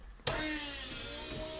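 An Opel Corsa A GSI race car engine turns over and catches after a short starter click, then settles into a steady, faint idle heard from close by.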